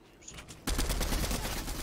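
Rapid automatic gunfire from the video game Fortnite bursts in loud and close after a brief quiet moment, then continues as a dense, sustained rattle of shots.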